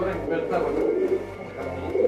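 A racing pigeon coos close by in low, throaty rolling notes that repeat through the moment, with a faint background hum.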